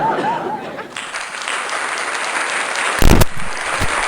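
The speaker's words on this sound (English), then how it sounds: "Have to let the applause play out on that one." A crowd claps at length, a dense close wash of applause with scattered cheers, interrupted by a sharp loud burst near the end as it carries on.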